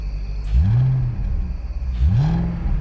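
A BMW E39 idling with a suspected valve stem or PCV/CCV leak gets two quick throttle blips, each engine rev rising and falling over a steady rumbling idle, close and loud, no talk.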